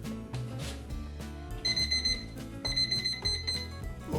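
A kitchen timer signals the end of a bread dough proof for soft cheese rolls, beeping in two rapid bursts over soft background music.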